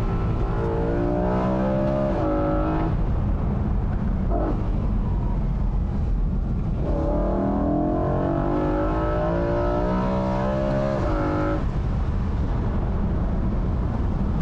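A 2008 BMW M3 E93 convertible's V8 revs hard on a mountain road, loud and close, rising and falling through the gears in sustained high-revving pulls with brief lifts between.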